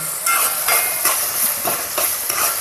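Ginger paste frying with onions in a pan gives a loud, steady sizzle, with repeated scraping strokes of stirring at a regular rhythm and no talking.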